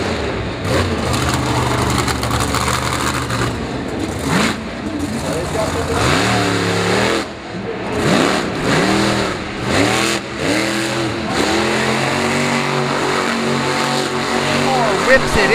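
Racing truck engine at Bristol Motor Speedway, revving hard and swinging into a donut; a loud, wavering roar with repeated rising and falling pitch sweeps, mixed under a commentator's voice throughout.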